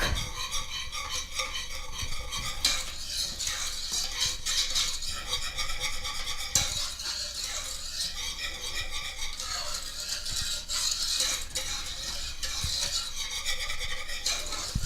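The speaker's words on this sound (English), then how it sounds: "we're going to whisk our sugar and our cocoa together" Sugar and cocoa whisked together in a bowl for a chocolate pie: a steady, gritty scraping and rattling of the whisk against the bowl that continues throughout, close and moderately quiet.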